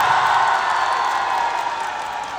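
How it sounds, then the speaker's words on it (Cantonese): A large concert crowd at a live pop show in London breaks into broad, sustained applause and cheering, a dense roar that fills the hall and slowly eases. "俾啲掌聲"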